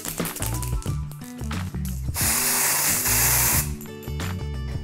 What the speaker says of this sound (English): And a quick spritz with the gold shimmer spray.